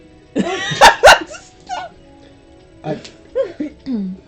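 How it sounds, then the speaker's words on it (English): A dog gives two sharp barks followed by a few softer yips and whines, fairly close, with quiet pauses between. "Did you hear a bark?"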